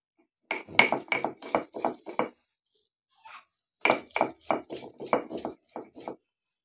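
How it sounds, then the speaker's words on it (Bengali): Spices for egg korma being ground by hand on a stone, a rhythmic series of close, scraping strokes in two bursts separated by a short pause. "আমার এখানে মশলাগুলো বেটে নিতে কিছুটা সময় লাগছে।"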